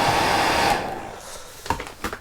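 A hair dryer blows with a steady whooshing whine over a fly-tying bench, then cuts off and fades, leaving a few light taps and knocks.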